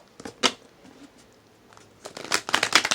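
Tarot cards shuffled by hand, a few soft riffles and flicks early on, a quiet pause, then a denser burst of crisp papery riffling near the end, close up.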